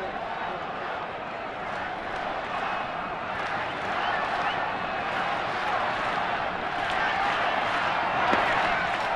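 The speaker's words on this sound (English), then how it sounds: "Sellout crowd, pretty loud right now." A sellout baseball crowd at PNC Park during a cold home opener roars as a broad, sustained wash of cheering and clapping in the distance, with no pause.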